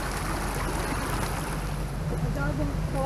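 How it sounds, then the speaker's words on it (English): Steady rushing water flows close by through a drainage ditch, a dense broadband wash with a low rumble underneath, continuous throughout. "that's a lot of water coming through there"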